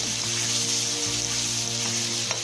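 Chopped onion and garlic fry in a pan of oil while cooking moong dal, a steady close sizzle that runs evenly and without break for the whole short stretch, with no talking.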